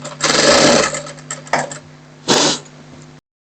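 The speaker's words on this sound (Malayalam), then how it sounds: "ഇത് ഞാനൊരു പൈപ്പിംഗ് മോഡൽ അടിക്കുകയാണ്" A sewing machine stitches piping onto a blouse, running in loud close bursts of rapid mechanical whirring with short pauses between runs.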